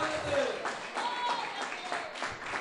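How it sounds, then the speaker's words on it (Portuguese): A church congregation claps its hands in praise, rhythmic clapping at moderate volume with voices running over it in a reverberant hall. "Pode bater as palmas para Jesus."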